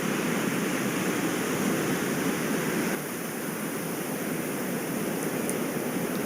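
Ocean waves wash steadily against the rocky Pacific shoreline at Cook's Chasm, a constant broadband roar that dips slightly halfway through, with no voices.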